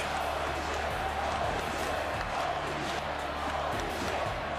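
A capacity arena crowd at a WrestleMania event in Tampa Bay within the WWE 2K wrestling video game, roaring in a dense, continuous wash of cheering with a commentator's voice faintly beneath.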